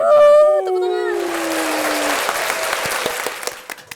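Applause during a student podcast farewell episode, a voice trailing off into a spread of clapping and chatter, uneven and fading toward the end with scattered claps.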